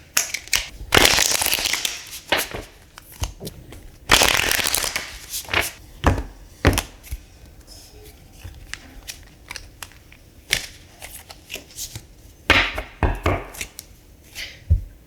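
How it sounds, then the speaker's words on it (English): A tarot card deck being shuffled by hand in several bursts of crisp riffling and sliding, with pauses between passes and quieter shuffles trailing off later, close and with no speech. "I'm going to get started with shuffling the deck."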